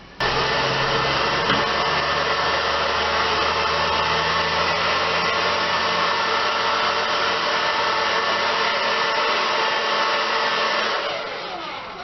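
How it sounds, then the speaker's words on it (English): A hair dryer blows steadily at close range while drying an Outre Duo Batik blonde 613 blend hairpiece, a loud constant whoosh that tapers off in the last second. "That's how I just blow dried it on"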